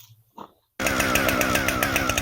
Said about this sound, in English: He's gonna let that saw warm up just a minute.